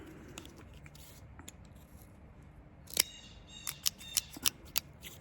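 A cigar cutter snips the cap of a sungrown Perdomo Lot 23 toro cigar, a series of crisp clicks and snaps coming in quick succession close to the microphone after a quiet start.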